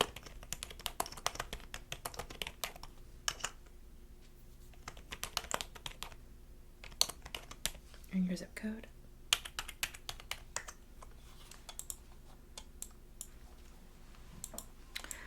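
Computer keyboard typing and mouse clicks at an insurance claims call-center desk, steady close-up tapping in irregular bursts with scattered sharp clicks, running under a soft-spoken voice.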